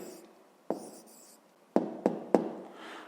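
A pen scratches an answer onto paper in a few short, quiet strokes, with sharp taps and brief scribbles separated by pauses.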